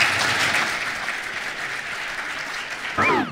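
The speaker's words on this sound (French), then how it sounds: "Applaudissements pour Cédric Lavaux." Applause from the audience at a real estate general assembly, a dense steady clapping throughout that swells briefly near the end.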